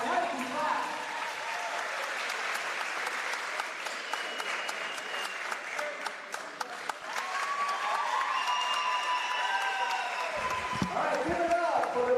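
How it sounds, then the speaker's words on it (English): Audience applause fills a gym during halftime at a women's basketball game, a steady wash of clapping and crowd noise running throughout, with scattered voices mixed in. "now you can clap"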